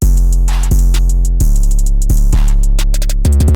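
A snare drum pattern from an FL Studio trap beat, a run of crisp rapid hits panning from left to right over loud, distorted sustained bass notes and a repeating melody.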